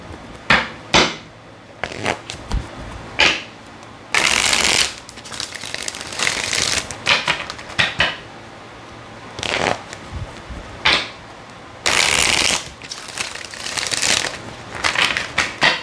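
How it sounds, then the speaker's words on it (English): Tarot cards are shuffled in several short, crisp bursts of riffling and slapping, close and fairly loud, separated by quieter pauses, with no talking. "we're gonna use more tarot for this"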